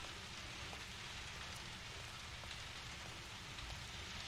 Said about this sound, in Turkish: montumu da alayım da yağmur yağıyor